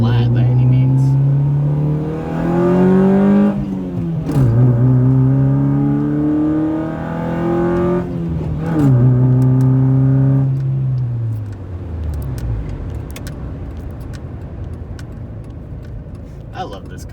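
A 1991 car's engine drones steadily during a night drive, revving up and dropping through repeated gear changes before settling to a quieter idle, heard close from inside.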